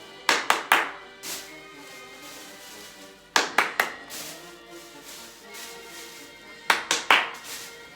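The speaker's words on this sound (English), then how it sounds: "I'm going to clap 3 times and try to catch it" Three quick, sharp hand claps sound during a juggling trick in a physical education lesson, and the burst of three comes again twice, with quiet gaps between each set.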